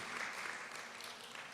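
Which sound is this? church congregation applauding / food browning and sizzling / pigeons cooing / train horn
church congregation applauding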